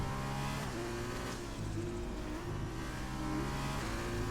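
A Prema Formula 2 race car lapping at the Belgian Grand Prix, its engine droning steadily at high revs with rising and falling pitch as it accelerates and shifts, loud and continuous throughout with no talk.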